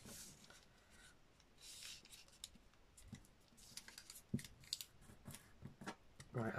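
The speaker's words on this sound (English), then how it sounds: "I'm not the fastest at cutting, as you can see" Scissors cutting paper for handmade paper bags and envelopes: slow, uneven snips and rustling paper handling close by, fairly quiet, with a few firmer cuts toward the end and no speech.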